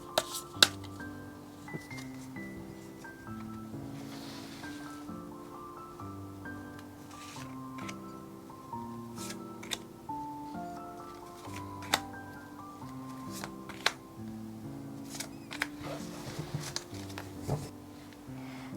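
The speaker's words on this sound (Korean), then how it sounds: "카드 셔플 하도록 하겠습니다." Tarot cards being shuffled by hand in a quiet room, a soft continuous riffling with scattered sharper clicks and taps, heard over a faint musical background.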